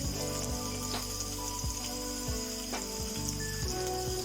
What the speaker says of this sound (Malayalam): വെളിച്ചെണ്ണ ചൂടായി കഴിഞ്ഞാൽ നമുക്ക് മീൻ വറുക്കാൻ വയ്ക്കാം.